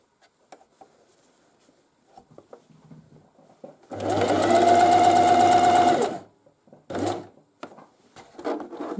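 A sewing machine stitches across a steek in a hand-knitted cardigan, buzzing loudly in one steady burst of about two seconds, then a brief second run. Quiet handling noises surround it, with no speech.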